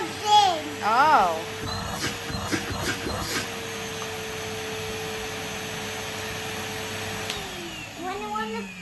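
A Henry Hoover vacuum cleaner starts up and runs with a steady, close motor drone, then winds down near the end. Someone talks and makes excited sounds over it at the start.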